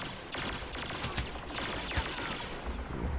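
Boba Fett's blaster rifle firing in Star Wars Battlefront amid a distant battlefield fusillade, repeated sharp shots popping over a steady rumble of gunfire, fairly faint overall.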